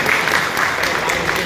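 Crowd clapping at a temple fair in Abbe Tumkur, a dense steady wash of many hands clapping together, close and loud throughout the short moment.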